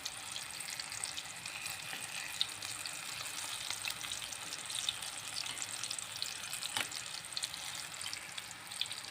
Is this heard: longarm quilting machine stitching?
no